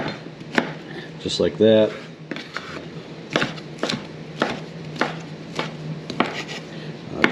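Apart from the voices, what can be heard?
knife slicing a baked potato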